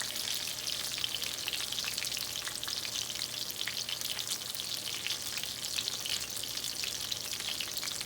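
Breaded chicken cutlets for chicken parmigiana fry in a pan of hot oil, giving a steady, dense, close crackling sizzle that holds evenly throughout with no pauses and no voices.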